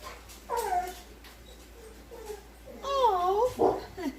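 A pet dog whining for a family member who just left, high, wavering whimpers in a few separate bursts, close by in a quiet room, with a light background hum.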